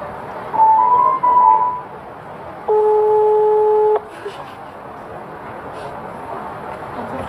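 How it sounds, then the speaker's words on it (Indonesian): Telephone tones sound as a call is placed: a short wavering electronic tone, then one steady, loud, sustained tone lasting over a second, followed by quiet room noise. "Biar aku aja yang langsung nelpon."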